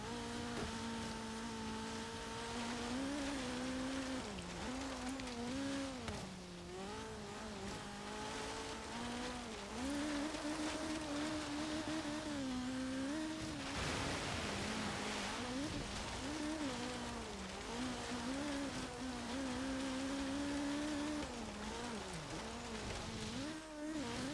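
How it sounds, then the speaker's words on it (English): A 1984 Opel Manta 400 drives slowly through water in the video game Forza Horizon 3, its engine droning and wavering in pitch as revs rise and fall, with water sloshing underneath. "it's not able to go all that fast through the water"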